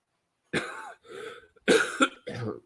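Several harsh coughs in quick succession, close and loud, the first a single hack, then a pair, then a final shorter one, with silence around them.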